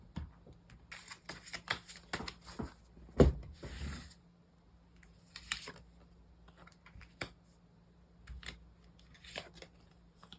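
Tarot cards being shuffled and drawn close up, a quiet series of soft riffling flicks and light card slaps in irregular bursts, with brief pauses and a low steady hum underneath.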